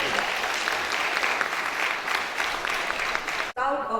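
A school audience claps loudly and steadily through a career guidance session, a dense, sustained round of applause that cuts off abruptly near the end.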